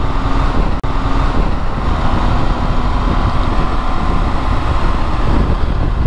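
A Benelli TRK502 X motorcycle is ridden fast through winding bends, its engine a steady loud drone heavily mixed with wind roar, heard continuously from the rider's position with a brief knock partway through.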